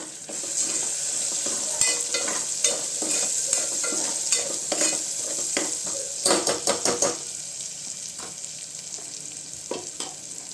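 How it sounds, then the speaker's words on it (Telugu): Ginger-garlic paste fries in a pan for chole masala, sizzling steadily while a utensil scrapes and stirs with repeated clinks, and a quick burst of stirring taps comes near the middle. "కొంచెం అల్లం వెల్లుల్లి పేస్ట్ బాగా వేయించిన తర్వాత ఒక హాఫ్ స్పూన్ కారం"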